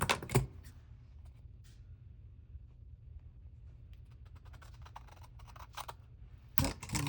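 Scissors trim paper for a junk journal in quiet surroundings, with a few sharp snips and paper rustles spaced through the clip and a short cluster of handling noise near the end.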